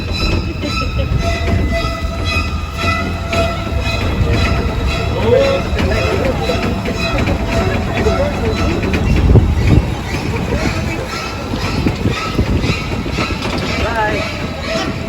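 Rumbling ride aboard an open studio tour tram at Universal Studios Hollywood, with rattling, clacking wheels and occasional squeals, while voices chatter faintly in the background.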